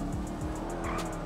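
Tires squeal as a car drifts in GTA 5, a sustained engine roar with skidding whine and rising squeals over constant driving noise, close and loud.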